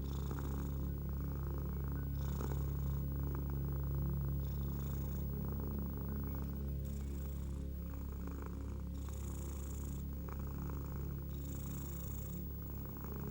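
A cat purrs close and steady, a low rumbling drone with soft rhythmic pulses as it breathes in and out, continuing without pause.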